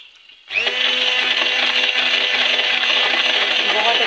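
A blender kicks on abruptly and runs loud and steady, whirring through cooked chicken being shredded into fibers for Lahori hareesa.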